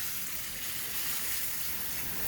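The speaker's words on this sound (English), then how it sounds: "So I'm gonna pour the beans in here" Cracked beans poured into a container of water to soak, giving a steady soft hiss and trickle with no talk.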